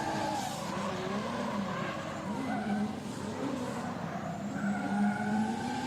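A drift car clutch-kicks through a figure-of-8 course at a driving experience center during a SEADS and NDS GP qualifying round, its engine droning steadily with rising revs and tires squealing throughout, loud and continuous with no talk.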